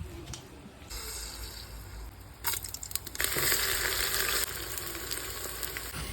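Onions fry in hot oil inside a pressure cooker for vegetable pulao, a steady close sizzle that grows louder and crackles more intensely partway through, with occasional stirring scrapes.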